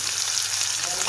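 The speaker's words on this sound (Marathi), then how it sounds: "जिरी मोहरीची फोडणी टाकलेली आहे, हा कांदा टाकलेला आहे" Onion frying in a cumin and mustard seed tempering in a kadai gives a close, dense, steady sizzle that holds unbroken throughout, with no voices.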